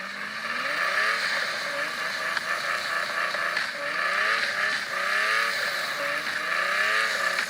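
A car engine in a video game drones and revs continuously, its pitch sweeping up and down as it accelerates, over a dense, steady bed of game sound.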